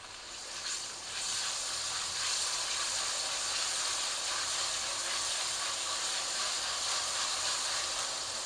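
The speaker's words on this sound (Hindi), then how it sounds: "लहसुन अदरक भी थोड़ा सा फ्राई करेंगे।" Garlic-ginger paste fries in a pan, a steady loud sizzle and hiss that swells within the first two seconds and then holds evenly, with no talking.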